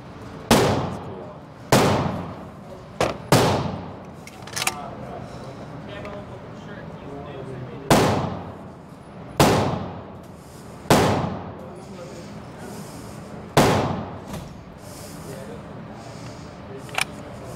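AK-47 rifle fired outdoors, about ten sharp, loud single shots at irregular spacing, each ending in a short decaying echo, with faint background between shots.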